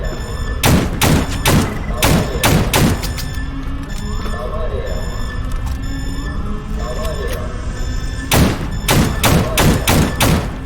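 Rapid bursts of automatic gunfire from the shooter game S.T.A.L.K.E.R.: GAMMA, loud clustered shots at the start and again near the end, with quieter mechanical clatter and ambient game noise in between.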